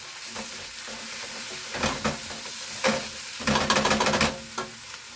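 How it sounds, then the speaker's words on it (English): Chickpeas sizzle in a hot pan while a utensil stirs and scrapes them, with crackling bursts rising and falling over a steady frying hiss. "Start sizzling the pan away."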